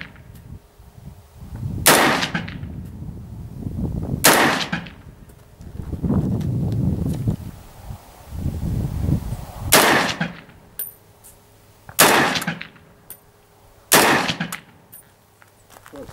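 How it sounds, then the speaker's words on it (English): An old battle rifle fires single heavy shots outdoors, about six sharp loud reports spaced a couple of seconds apart, with quieter shuffling and handling noise between them. "So it's definitely the old battle rifle. There's definitely recoil there, pushes you right off"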